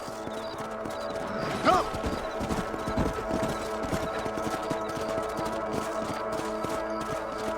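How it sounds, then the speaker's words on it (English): Horses' hooves clip-clop steadily in the Western video game Red Dead Redemption, a continuous trotting rhythm mixed with background game sounds and music, with a brief louder knock near the start. "Let's get back on the horses and see what else is going on."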